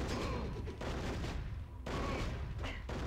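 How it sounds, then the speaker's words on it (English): Gunfire from the N64 shooter Turok, a dense continuous barrage of blasts filling the whole stretch, loud and close with brief lulls between bursts. "Come to where you hear the gunshots."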